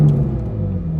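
A Ferrari 458 Italia Spider's engine fires up into a deep, loud, steady low rumble that holds close and even for about a second, with no voices.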